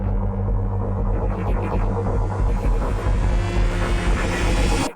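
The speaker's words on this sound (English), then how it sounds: "This is a massive patch with an arpeggiator" A dense synthesizer patch with a rapid arpeggiated pattern over a deep, throbbing low drone, steady and loud, cutting off abruptly at the end.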